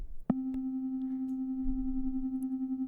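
A synthesizer sine tone begins after a short click and holds a steady pitch, its loudness pulsing gently up and down in a regular wobble from an LFO.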